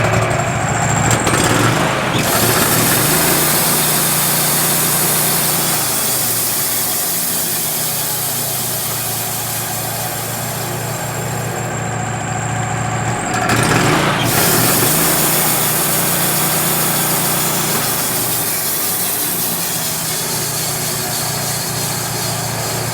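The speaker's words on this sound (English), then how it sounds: "Let me fire it up and give y'all a view on how it really works." A Wood-Mizer LT15GO portable sawmill's engine runs loud and close, a steady droning roar that surges and shifts in pitch as the belt clutch engages and the saw works.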